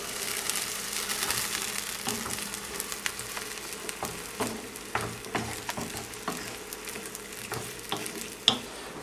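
Diced tomatoes fry and sizzle in a pan while a spoon stirs them, giving a steady close hiss broken by repeated scraping and clacking strokes against the pan.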